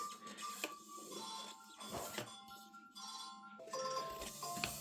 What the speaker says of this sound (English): The good old chisel.